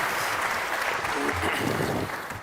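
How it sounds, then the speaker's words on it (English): Conference audience applauds a panel after a discussion, a loud dense burst of clapping from many hands, holding steady before thinning slightly near the end, with a voice faintly present underneath. "Can we give the panel a round of applause?"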